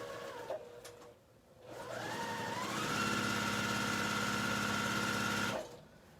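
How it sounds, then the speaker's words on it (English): A sewing machine runs up to speed and stitches a long straight seam, a steady close mechanical whir with rapid regular clatter that holds for several seconds before stopping. "The more stitches your machine can pump out, the quicker you're going to get to the end, obviously."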